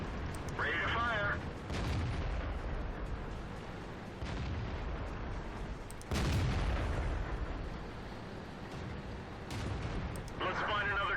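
Tank cannon shots in a video game, a handful of heavy booming blasts spaced a few seconds apart over a steady rumbling battle bed, with brief radio-style voice chatter at the start and end.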